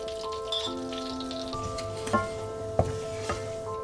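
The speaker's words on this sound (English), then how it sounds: "So now we've added our ghee, it's nice and hot and just foaming." Hot ghee foams and sizzles in a pan with freshly roasted spices, making a steady, soft crackling hiss with a few sharper pops, heard under gentle background music.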